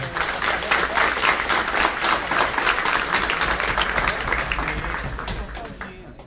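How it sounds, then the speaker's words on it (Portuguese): Audience applause at a security conference, many hands clapping in a lively steady rhythm that slowly thins and fades out toward the end, with faint voices underneath. "Salva de palmas, por favor."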